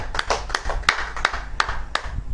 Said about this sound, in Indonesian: Tepuk tangan dulu buat Tuhan kita yang ajar.